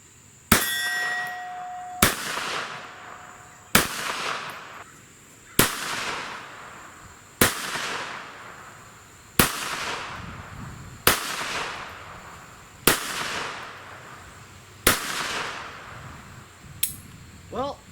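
Shots from a Jennings Bryco pistol strike a steel target one by one, about nine sharp metallic clangs spaced roughly two seconds apart, each ringing briefly before the next. The pistol report sounds outdoors at range.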